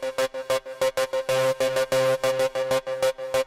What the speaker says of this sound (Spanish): Fíjense que yo tengo acá este synth que está acá.